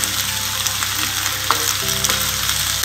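Pumpkin sabji cooks on a low flame, a steady close sizzle running throughout with soft scraping and stirring knocks from a utensil in the pan, no one speaking.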